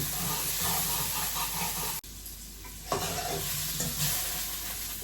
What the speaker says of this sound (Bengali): চালটা একটু ভেজে নেই তারপরে এই যে আলুটি দিয়ে দিলাম আলুটি একটু ভেজে নেই ভালোভাবে